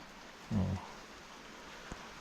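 Steady rain hisses over a forest while someone shelters beneath a rock overhang on a mushroom-foraging trip; a single dull thump stands out briefly early on against the constant patter.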